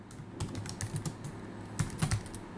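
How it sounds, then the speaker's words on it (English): Quiet typing on a computer keyboard while entering an email address, with scattered soft key clicks in short bursts and a brief pause in the middle, close and alone. "I'm going to type my address."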